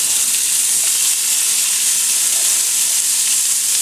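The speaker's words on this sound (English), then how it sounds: "to our hot pan or pot, we are going to add in our large onion" A large onion hits a hot pot and sizzles loudly and steadily throughout, a dense continuous hiss of frying with no voices.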